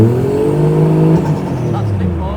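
A Japanese car engine struggles and falters with its engine warning light on, a close, loud droning hum whose pitch wavers and sags unevenly as it runs rough.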